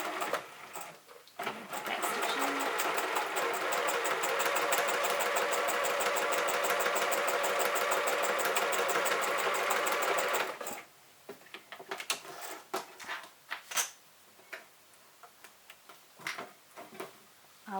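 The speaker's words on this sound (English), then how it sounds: "We're going to sew down the short edge on this side." A sewing machine stitches a short quarter-inch seam on a fabric bucket hat, a rapid steady mechanical whir for about nine seconds, then stops, followed by scattered handling clicks and rustles.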